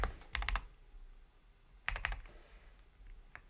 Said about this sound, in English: It feels really nice on just on the regular typing.